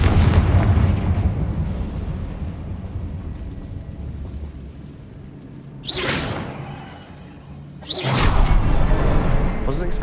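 Confringo fire spell in a Harry Potter video game: heavy rumbling blast, then two sharp whooshing bursts with deep booms, loud and close under game ambience, with some voice activity.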